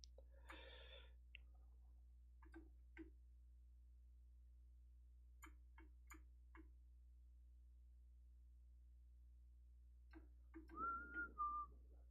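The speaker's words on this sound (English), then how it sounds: "Sorry, I shouldn't whistle into the microphone." Person whistling into a microphone while painting, short soft scattered taps and clicks early on and then a brief faint whistled melody near the end over a steady low hum.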